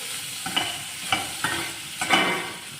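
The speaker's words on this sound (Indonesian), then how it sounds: "Sekarang kita masukkan sosisnya. Kemudian kita aduk." Sausage pieces tossed and stirred in a hot oiled pan for Taiwanese-style fried rice, with several distinct scraping stirs over a steady background sizzle, close and moderately loud, no talking.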